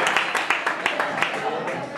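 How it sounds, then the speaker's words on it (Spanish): Audience at a concert applauding a friend, with regular clapping beats across the whole stretch over a busy crowd wash. "Aplausos para Darío, hombre"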